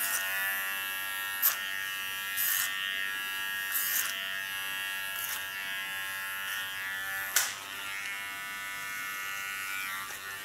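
Electric hair clipper in combing position buzzing steadily close by while trimming a contour line on ultra-short hair, with a few brief louder scraping bursts against the hair and no talking.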